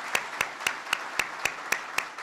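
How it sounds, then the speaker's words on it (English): Sharp, evenly spaced claps ring out close by at a White House forum, falling into a crisp metronome-like rhythm of about four per second with little crowd wash behind them. "let's just take a moment to give them a round of applause for their excellent work"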